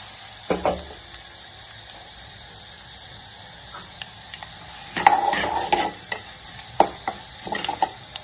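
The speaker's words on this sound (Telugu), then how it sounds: "బాగా వేయించుకోవాలండి" Spices frying and being stirred in a pan for pepper rasam: a soft steady sizzle with scraping and clinking of a spoon against the pan, busier near the end, with no voices.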